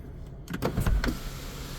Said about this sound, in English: I mentioned this does have a sunroof.